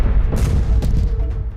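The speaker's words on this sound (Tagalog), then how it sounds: "Isa ring malakas na pagsabog ang narinig ng OFW na si Mel" Explosion in Tel Aviv at night, heard near a residential building: a loud, broad rumbling boom with a sharp burst partway through, reverberating continuously for under two seconds.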